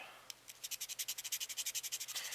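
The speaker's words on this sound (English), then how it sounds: "I'm gonna use a file here." A quick run of rhythmic scraping strokes as a file is worked back and forth over plastic model kit parts, close up, about fifteen even passes with no talking.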